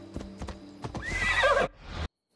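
Horse in the Assassin's Creed video game neighing loudly over a few clip-clopping hoofbeats, the whinny rising then cutting off abruptly, close and alone without talk.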